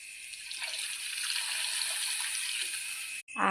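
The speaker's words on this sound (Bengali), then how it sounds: "তো আমি এখান থেকে আর একবার জল দেবো।" Water pours into pumpkin curry cooking in a pan, a continuous close splashing rush that runs for about three seconds before cutting off abruptly.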